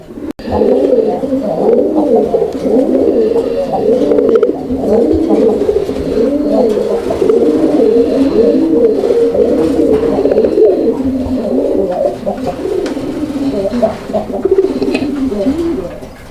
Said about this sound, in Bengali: মানে ভাইয়ের প্রত্যেকটা কবুতর প্রত্যেকটা জোড়াই কিন্তু আলহামদুলিল্লাহ অ্যাক্টিভলি ডাকাডাকি করে